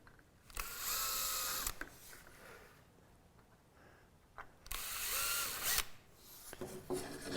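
A power drill bores through pre-drilled holes in a wooden deck panel of a Wood Duck 12 boat kit, with two loud bursts of high whirring, each about a second long, separated by quieter handling noise.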